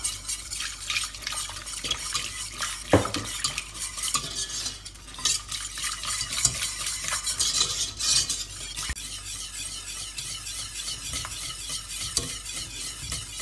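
Milk being stirred into a hot lasagne sauce in a pan, with a steady close sizzle and scraping spoon strokes, plus a few sharp utensil knocks against the pan, with no talking.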